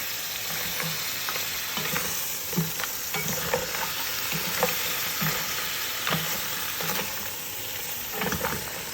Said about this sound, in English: the bones are getting fried and toasted in that oil